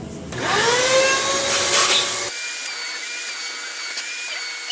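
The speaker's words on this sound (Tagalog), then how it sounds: "Vacuum ulit." A vacuum cleaner whines up to speed and runs loud and close while cleaning Mazda BPT engine parts, then its tone drops and steadies as the hose is moved, with no talking.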